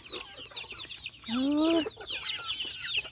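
A flock of chickens clucks steadily while being fed, with one louder drawn-out squawk rising above the chatter midway through.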